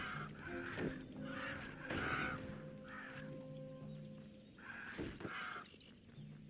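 Harsh, crow-like cawing and squawks from hostile birds in the video game Titan Quest, repeated in bursts over a quiet game background, with no speech.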